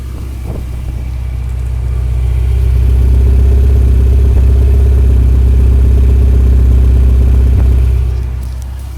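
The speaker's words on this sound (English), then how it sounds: "a good listen to engine and exhaust at idle on this 1991 Ferrari 348 TB" A 1991 Ferrari 348 tb V8 engine idles with a deep, steady exhaust rumble, loud and close, swelling slightly then easing near the end.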